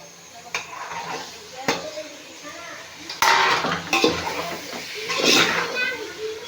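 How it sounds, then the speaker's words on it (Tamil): Tomatoes go into a pan for mutton biryani, with clanking utensils and stirring scrapes over a light sizzle, while someone talks throughout. "இப்போ நம்ம தக்காளி போட்டுக்கலாம்."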